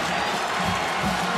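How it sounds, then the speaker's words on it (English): The Florida crowd in the Jacksonville stadium cheers during the 2021 Georgia vs Florida football game, a broad, steady roar of voices and clapping heard from a distance. "Cheer of the Florida crowd because Emory Jones is on the sideline"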